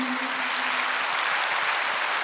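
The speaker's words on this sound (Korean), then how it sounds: "박수 한번 주세요." Steady, dense clapping from a church congregation during a worship service, loud and continuous without letup, with a faint low hum running underneath.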